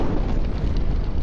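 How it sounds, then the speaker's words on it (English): A vehicle blown up in the Brick Rigs video game, a short dense rumbling explosion that stays loud and steady throughout, with no talk over it. "Let's see if we can blow it up in one shot."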